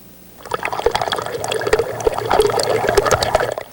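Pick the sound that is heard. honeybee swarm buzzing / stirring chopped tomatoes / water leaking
water leaking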